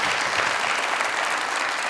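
Studio audience applause on the comedy show Mazaq Raat, a brief, even burst of dense clapping filling the room at steady loudness.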